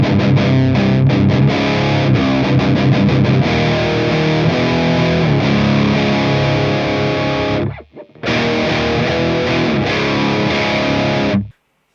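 Distorted electric guitar runs through an EQ pedal set to cut the highs and boost the lows, giving a loud, dark, sustained riff with chords and picked notes. It breaks off briefly near the end, then resumes and stops.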